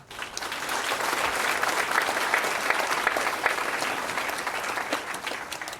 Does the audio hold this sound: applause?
yes